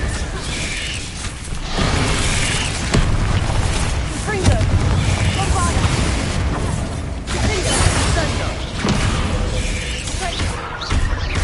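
Confringo fire spells in Hogwarts Legacy blast repeatedly in a dense, loud roar of explosions and crackling debris, with spell-casting voices mixed into the continuous din of combat.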